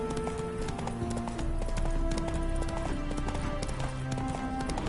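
A horse gallops in the video game The Witcher, its hooves making a fast, steady clip-clop over continuous music, loud and close throughout.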